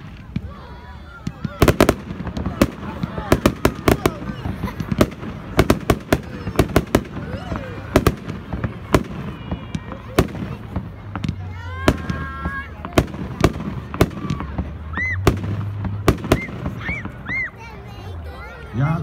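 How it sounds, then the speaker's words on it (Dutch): A Red Ghost 16-shot consumer fireworks cake by Evolution Fireworks fired at a 2018 fireworks show, a dense run of sharp loud bangs and crackles with whistling rising tones, while a crowd and children chatter in the background. "Nummer 7 op de schietlijst, de Red Ghost. Cake van Evolution Fireworks. 16 schots"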